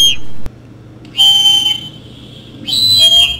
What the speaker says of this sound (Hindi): पाइप को मुंह में रखकर दोबारा फूंकेंगे तो दोबारा सीटी जैसी आवाज